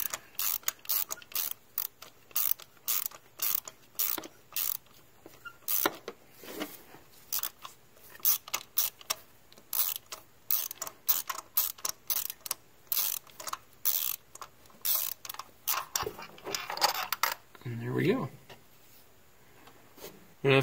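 A ratchet wrench clicks in rapid, uneven bursts while spark plugs are unscrewed from the cylinder head of a Ford Fusion 3.0 V6 with dry threads, with a short scraping squeak near the end.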